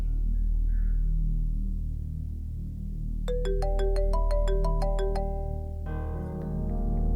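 A melodic mobile phone ringtone plays a quick rising sequence of bright electronic tones, then shifts to a second chiming pattern over a low background hum.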